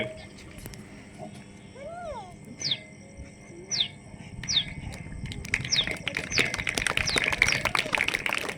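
A voice imitates chicks with a few thin, high cheeping peeps spaced apart, followed by a busier stretch of noisy chatter.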